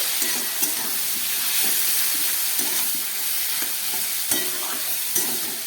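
Ridge gourd and potato in poppy seed paste stirred and fried in a pan, a steady close sizzle with spoon scrapes and stirring knocks recurring throughout.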